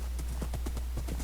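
A horse's hooves clip-clopping steadily in the Minecraft video game, a quick even run of hoofbeats over a constant low hum.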